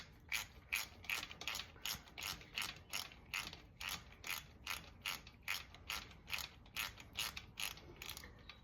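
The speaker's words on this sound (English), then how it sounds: "switch your ratchet to tight" A ratchet wrench clicks rapidly and steadily as it tightens the drain bolt on an SSR110 cheap Chinese pit bike, about two even clicks per second, close and fairly loud with no voices.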